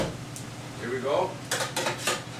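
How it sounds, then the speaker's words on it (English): Sliced mushrooms tumble into a sauté pan of onions with close metallic clinks and scrapes of utensil on pan, ending in a short burst of clattering, without any sizzle. "Adding the mushrooms to the onions."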